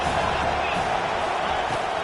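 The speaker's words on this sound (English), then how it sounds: "This crowd bringing the energy and noise early" A football stadium crowd roars at an Auburn vs USF game, a steady, dense wall of cheering noise that holds at full volume throughout.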